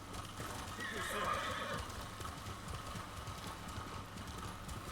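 A horse ridden at speed in Ghost of Tsushima, its hooves pounding in a steady clip-clop rhythm with a whinny early on, heard close and continuous while a voice talks over it.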